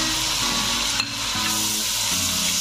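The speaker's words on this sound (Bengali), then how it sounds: "ঘিটা গরম হয়ে গেছে, আমি কলাগুলো দিয়ে দিলাম" Banana pieces frying in two spoonfuls of hot ghee in a wok, a close, constant sizzle with brief stirring scrapes and no voices.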